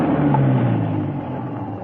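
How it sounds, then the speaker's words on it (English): An approaching car's engine hums low and steady as it comes up a driveway in an old radio drama, a smooth drone that eases slightly softer toward the end with no voices over it. "A car was coming up the driveway."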